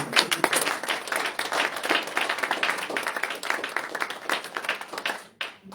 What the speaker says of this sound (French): Si tu vas acclamer, acclame bien.